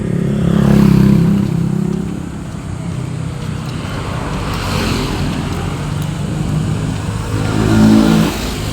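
Jeepney engines idle and rev in a parking area, a steady outdoor rumble that swells twice as vehicles accelerate, with some wind and road noise and no talk.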